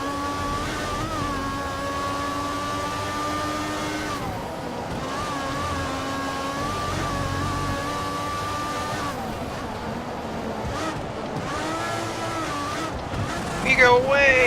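A Formula 1 car engine in the F1 2014 video game at the German round screams at high revs, pitch swinging through shifts and braking, with a voice talking over it throughout.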